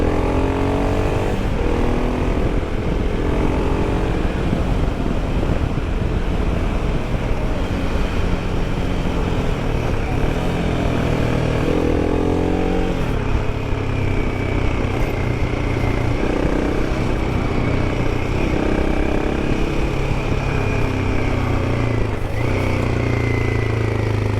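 A Himalayan 450 motorcycle on Reise TrailR 50:50 tyres rides narrow mountain roads, its engine droning loud and continuous for the whole stretch with rising and falling revs, mixed with steady wind rush and no talk.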